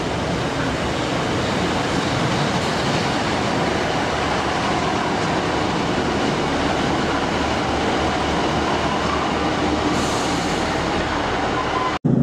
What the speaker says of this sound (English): Goes the train.